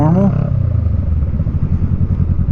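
A Honda Rebel 500 fitted with a new muffler pulls away in first gear, its close, steady low thumping exhaust rumbling evenly after a short rising rev at the start.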